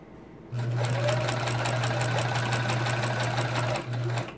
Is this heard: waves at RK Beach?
no